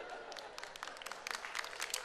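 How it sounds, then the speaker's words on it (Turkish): A small audience claps continuously and unevenly, with dense overlapping hand claps in a room, moderately loud and without speech. "O ne ki her şeyi alkışlıyorsunuz sanki"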